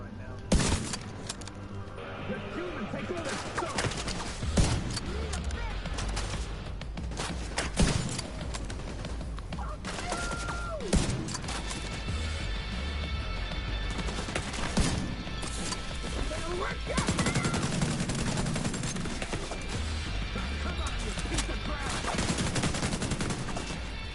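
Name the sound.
gunfire shooting a sniper in The Division 2 video game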